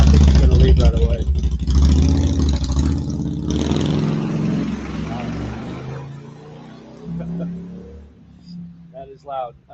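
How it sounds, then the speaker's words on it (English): A loud custom-made motorcycle engine roars close by, then fades as it pulls away, with a person talking over it. "here's that motorcycle"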